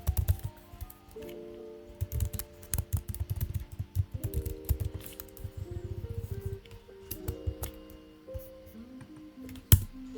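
Fingers type on a computer keyboard in quick, uneven bursts of close, soft clicks, punctuated by a louder keystroke near the end while writing web component code.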